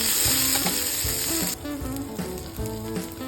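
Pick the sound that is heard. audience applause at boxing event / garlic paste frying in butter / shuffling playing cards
garlic paste frying in butter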